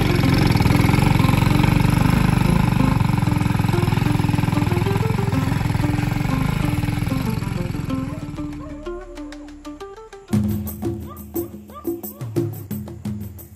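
A local motorcycle labours along a slippery, muddy trail, its engine droning steadily before breaking into uneven sputters and short revving bursts near the end.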